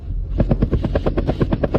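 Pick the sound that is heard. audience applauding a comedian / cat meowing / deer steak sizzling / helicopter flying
helicopter flying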